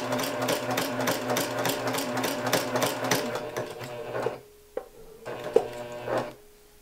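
A sewing machine runs steadily while stitching quilt binding, its rapid needle rhythm loud and close for about four seconds, then stops; a few short clicks and one brief burst follow as it halts near the fabric edge.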